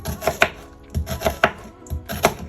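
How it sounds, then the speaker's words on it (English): Vegetables are chopped on a board with a knife, giving a quick run of sharp, close knocks in small irregular clusters, heard alone. "Chop up veggies, Donald."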